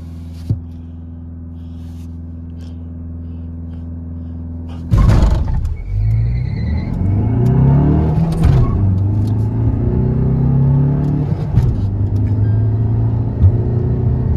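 A tuned Kia Seltos and a tuned Tata Safari rev and launch in a drag race, engines roaring loudly with rising pitch sweeps as they accelerate and shift, heard from inside a car.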